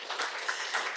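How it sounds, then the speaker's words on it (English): An audience applauds in a dense, even wash of clapping that lasts about a second, steady and moderately loud with no talking over it. "That deserves a round of applause"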